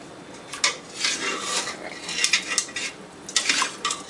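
Drained chayote (mirliton) being tipped into a bowl in a home kitchen, with clattering dish and utensil clinks in several short bursts, close and moderately loud, with no speech.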